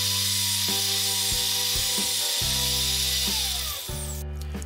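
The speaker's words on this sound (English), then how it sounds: "set a depth stop on the drill press and drill a hole nearly through the entire side pieces" A drill press whirs steadily with a constant motor drone, its pitch shifting in several steps as the bit works through wood, close and loud.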